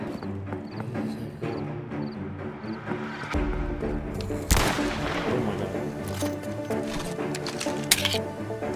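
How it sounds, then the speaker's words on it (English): Bursts of gunfire crackle and pop in quick volleys over a busy mix of Roblox game sounds, with one sharp heavy blast near the middle. "I'm mid gunfire right now."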